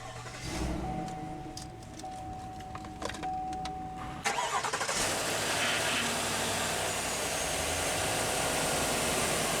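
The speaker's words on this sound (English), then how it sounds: "let's go ahead and start the engine" A 2022 Chevrolet Silverado 1500 LTD High Country pickup with push-button start: a few cabin chimes, then the engine cranks and catches with a loud burst before settling into a steady, close idle rumble.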